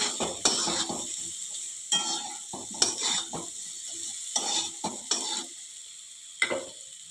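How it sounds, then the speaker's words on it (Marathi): Salted ridge gourd stir-fried in a pan, heard as repeated bursts of a spatula scraping and stirring over a faint sizzle, with short quiet gaps between strokes. "मीठ घालून परत एकदा चांगलं परतून घेऊया।"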